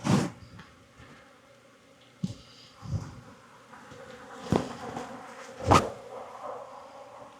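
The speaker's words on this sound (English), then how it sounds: "Lots of bees." Honeybees swarming an opened hive in a Jacksonville, Florida apiary during an October mite check, a continuous buzzing hum punctuated by several sharp knocks and clicks of frames being handled.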